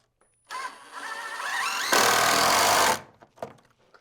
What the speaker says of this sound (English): This one is toe screwing.